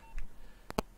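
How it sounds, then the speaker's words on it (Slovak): A short burst of telephone keypad dialing tones as a phone call is placed, two distinct beeps close together near the end of the second, faint and without talk. "idem zavolať pánovi Viliamovi Hornáčkovi, sme sa dohovorili na rozhovore cez takto cez telefón"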